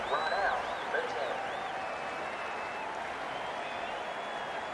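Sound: crowd applauding in Cricket 19 video game

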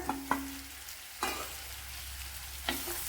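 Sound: sautéing onions and tomato in a pan

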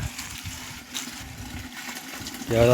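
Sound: irrigation water flowing to mango trees

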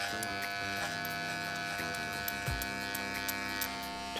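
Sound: electric hair clippers cutting hair with 1.5 grade

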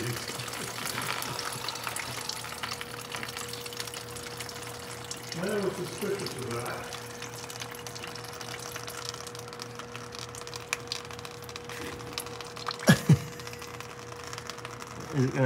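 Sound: water draining from Prevost bus air tank

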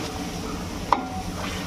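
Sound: stirring chicken curry after adding yogurt

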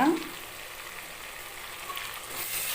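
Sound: sautéing ginger garlic paste and mint for crab biryani

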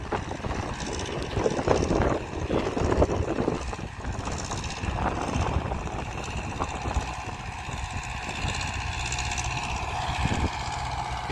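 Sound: MTZ tractor engine working a field

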